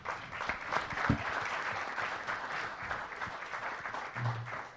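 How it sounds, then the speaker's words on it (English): Applause from a luncheon audience thanking the event sponsors, steady clapping from a crowd filling the room throughout, fairly close and even in loudness. "Give them a round of applause."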